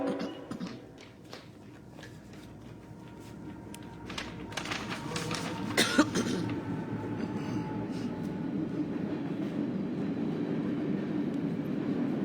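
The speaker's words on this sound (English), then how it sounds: "here comes another train" A train rumbles past at a distance, a low steady roar slowly building, with a few metallic clanks and squeals of wheels partway through.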